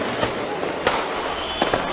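Fireworks crack during a street protest in Istanbul where demonstrators clash with riot police; several sharp, irregular bangs burst over a constant roar of crowd and street noise.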